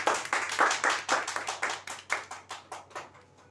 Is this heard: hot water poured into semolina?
no